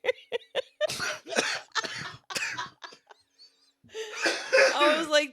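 A person coughs in a short burst of harsh hacks, then breaks into a loud fit of coughing and laughter, close to the microphone, in a cannabis-smoking setting.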